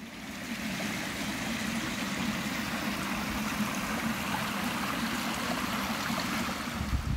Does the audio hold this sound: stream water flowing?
yes